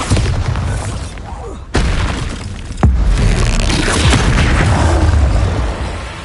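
Bombarda spell explosions in the Hogwarts Legacy video game: two sharp, loud booms land a second apart, each followed by a dense, sustained rumble and crackling debris that carries through to the end.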